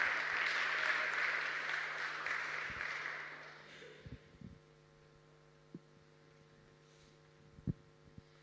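An audience at a national town hall on budget resourcing gives a short round of applause that fades out within a few seconds, leaving a low electrical hum and a few scattered thumps.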